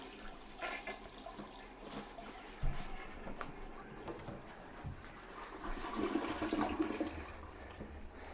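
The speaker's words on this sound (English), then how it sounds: "So at this point, I'm going to flush the toilet here." A household toilet flushes in a bathroom, a rushing swirl of water that surges and drains then trickles as the tank refills, heard moderately close with no talking.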